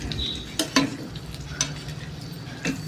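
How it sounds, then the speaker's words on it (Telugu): Ivy gourd (dondakaya) fries in oil in an Andhra-style pan while a ladle stirs it, giving a soft continuous sizzle broken by a few scraping knocks of the ladle. "సో ఇది వేసుకున్నాక గరిటెతో మనము కింద మీద కలుపుకోవాలి, ఎందుకంటే ఇది ఫ్రై కాబట్టి ఆ దొండకాయకి ఆయిల్ అంతా అంటాలండి."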